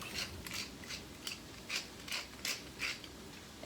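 Pepper grinder twisting over fish, a run of about eight short gritty crunches in an uneven rhythm, close and fairly quiet, with no talking.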